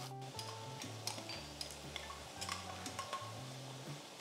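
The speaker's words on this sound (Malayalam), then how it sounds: "ഇഞ്ചിയുടെയും വെളുത്തുള്ളിയുടെയും പച്ചമണം മാറുന്ന വരെ വഴറ്റിയെടുക്കും." Sliced ginger and garlic with a slit green chilli sautéing in a pan, a soft steady sizzle with repeated stirring scrapes and light ticking taps of the spoon against the pan.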